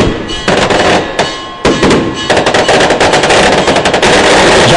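Fireworks burst in front of a parish church during a religious procession for Nossa Senhora da Conceição in Orobó, Pernambuco, a loud, dense rapid-fire crackle of explosions with a brief lull before the barrage resumes.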